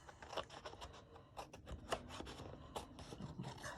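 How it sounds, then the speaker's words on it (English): Scissors trimming excess paper from a Christmas journal page made from magazine cuttings: quiet, close, repeated snipping and rubbing scrapes in an uneven rhythm, with no voices. "Cut the excess off here."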